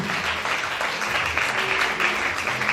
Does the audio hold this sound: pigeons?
no